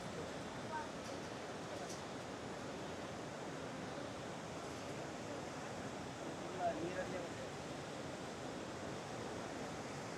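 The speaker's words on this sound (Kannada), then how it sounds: "ಸಕ್ಕತ್ತಾಗಿ ಬೀಳ್ತಾ ಇದೆ ನೀರು" Gokak Falls water pouring down steadily, a dense continuous roar of falling water that fills the whole clip at an even level, with no voices heard.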